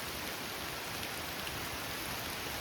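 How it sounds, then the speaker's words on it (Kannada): Steady rain falls at Donne Falls near Ankola, a dense, even hiss of drops that holds constant throughout with no voices. "ನಾನು ಫಾಲ್ಸ್ ನೋಡ್ಕೊಂಡು ಹೋಗೋವರೆಗೂ ಮಳೆ ಬರಬಾರ್ದು ಅಂತ ಅಂದ್ಕೊಂಡಿದ್ದೆ, ಬಟ್ ಅನ್ಫಾರ್ಚುನೇಟ್ಲಿ ಬಂತು"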